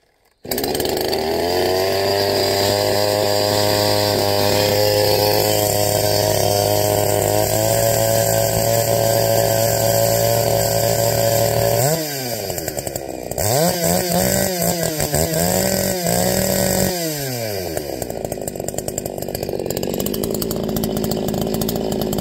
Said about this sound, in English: I'll push the choke in now and it should just start